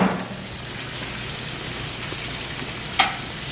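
Chicken seasoned with Slap Ya Mama frying in oil makes a constant, even sizzle and crackle, with one sharp clatter near the end.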